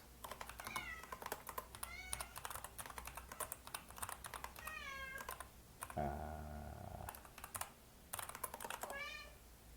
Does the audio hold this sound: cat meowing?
yes